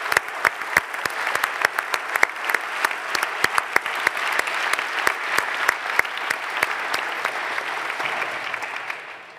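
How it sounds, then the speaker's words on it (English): A large audience applauds steadily at the closing session of PyCon DE & PyData Berlin 2023, a dense, sustained round of clapping with no talking, fading slightly at the end. "A big round of applause for everyone making this financially possible."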